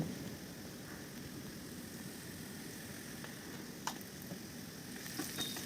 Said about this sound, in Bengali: পেঁয়াজটা এইভাবে ভাজতে ভাজতে এর ভেতরে অল্প পরিমাণে হলুদ গুঁড়ো অ্যাড করব